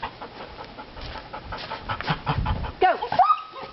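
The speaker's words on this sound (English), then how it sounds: "Good dog." Panting dog during an indoor training session, a steady soft breathy rhythm running through the clip, with brief higher whimper-like squeaks near the end.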